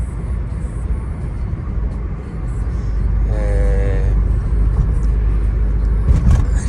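A 1992 Volkswagen Santana GLSI 2000 driving, heard from inside as a steady low engine and road rumble that swells slightly midway, with a brief whining tone near the middle and no talk.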